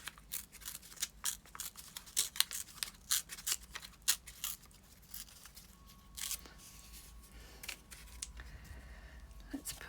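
Paper from an art piece is torn along a line, producing a series of close, crisp ripping and crinkling bursts in irregular rhythm, with a few quieter rustles toward the end.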